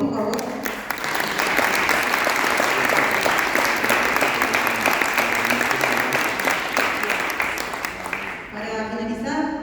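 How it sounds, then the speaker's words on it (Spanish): An audience at a youth education event gives sustained, loud applause for a group of young people, a thick wash of clapping with crowd murmur that tapers off near the end. "un fuerte aplauso a todo el grupo de jóvenes,"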